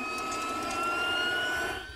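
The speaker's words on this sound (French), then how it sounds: "quand on démarre le rotor" A helicopter's engine and rotor starting up make a steady, loud turbine whine with high tonal notes that hold for about two seconds and then ease slightly at the end.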